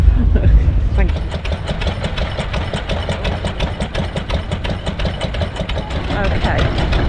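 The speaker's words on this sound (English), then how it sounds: "they're old vintage stationary engines that used to run like corn mills and farm machinery" A vintage stationary engine of the kind once used for corn mills and farm machinery runs at a steam rally, a steady close rhythmic chugging and knocking that fills the whole stretch, with crowd noise in the background.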